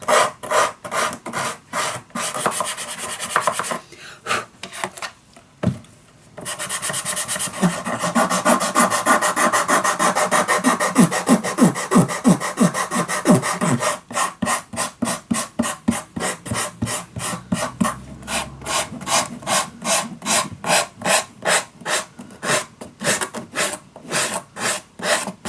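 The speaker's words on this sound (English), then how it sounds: "you just can file a little bit more" Hand filing of a small steampunk craft piece for Christmas letters, a steady back-and-forth rasping in rapid repeated strokes, close and loud, pausing briefly around the middle before resuming faster.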